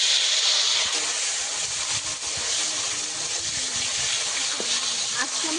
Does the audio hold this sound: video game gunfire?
no